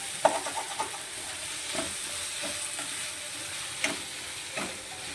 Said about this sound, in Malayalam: ഇനി നമുക്ക് ചതച്ച് വെച്ച് ചെറിയ ഉള്ളിയും കൂടെ ചേർത്ത് നന്നായി ഒന്ന് റോസ്റ്റ് ചെയ്തെടുക്കാം